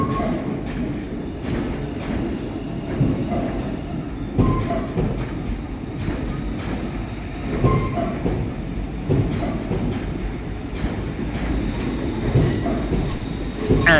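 A West Midlands Railway class 350 electric train arriving at Birmingham New Street, a low steady rumble with rhythmic wheel clicks over rail joints and occasional squeals, echoing under the station roof.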